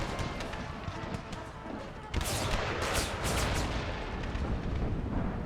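Cannon and artillery fire from Empire: Total War with the Brothers vs. Brothers mod, a mountain battle with booming shots over continuous battle din, growing louder and denser midway, with no talk.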